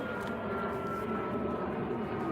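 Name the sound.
airplane flying overhead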